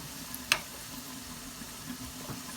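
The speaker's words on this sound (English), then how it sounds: "So now I'm just frying these, and once they're a bit golden brown I will take them off." Gentle sizzling of bitter gourd frying in oil over low heat, a soft continuous crackle with one sharp pop early on.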